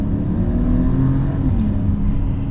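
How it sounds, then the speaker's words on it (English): A 2024 Mercedes GLS 450 SUV accelerates at full throttle, giving a loud, steady engine drone with a rising tone and a constant turbo whoosh. No one talks. "It's like just a constant sucking sound when you're full throttle."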